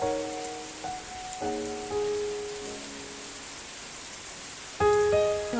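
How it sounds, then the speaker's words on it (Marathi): Heavy monsoon rain pours outside a home with a laundry-filled balcony, a loud unbroken wash of hiss overlaid by a few faint intermittent tonal notes. "आमच्या इकडे एवढा मोठा पाऊस चालू आहे."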